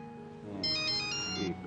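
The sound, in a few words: mobile phone ringtone ringing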